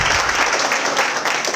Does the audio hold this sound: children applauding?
yes